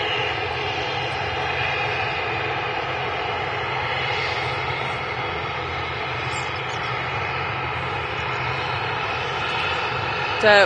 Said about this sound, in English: And we have a TUI Dreamliner on approach.